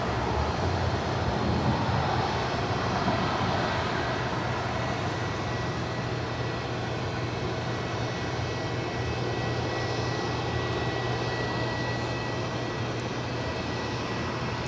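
A Delta Air Lines Boeing 737-900ER at LAX gives off a sustained, fairly loud jet engine roar that holds steady from start to finish, with nobody speaking.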